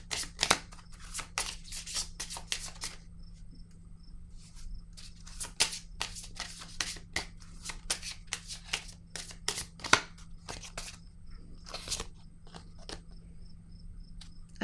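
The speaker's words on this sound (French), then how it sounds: "Je vais déposer maintenant une carte." Tarot cards handled on a table, with a long series of sharp, close card snaps, flicks and slides in irregular bursts over a low steady hum.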